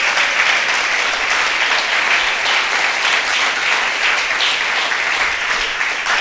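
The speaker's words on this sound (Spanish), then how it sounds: "Dale un aplauso fuerte al Señor." A church congregation at an evangelistic service claps loudly and continuously for several seconds, a dense, even wash of applause with no talk over it.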